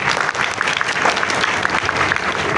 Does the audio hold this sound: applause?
yes